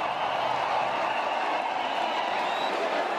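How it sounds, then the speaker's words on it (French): A large crowd applauds in stadium stands at a presidential swearing-in in the Central African Republic, a steady dense wash of clapping from many people at a distance, continuous and even throughout. "et un tonnerre d'applaudissements"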